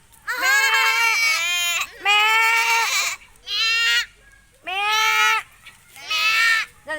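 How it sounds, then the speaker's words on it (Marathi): Goats bleat in five long, wavering calls separated by short pauses, loud and close. "अयो बकरं बघा बकरी"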